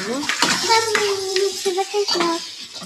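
Tomatoes stirred in a cooking pot for a Sunday non-vegetarian mutton dish, with a spoon scraping and clinking against the metal pot in repeated strokes, close and fairly loud, while a voice talks over it.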